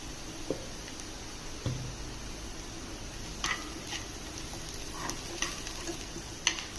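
Spiced potato filling for aloo paratha fries in a pan, with a soft steady sizzle broken by occasional stirring scrapes and spoon clicks against the pan, and no speech.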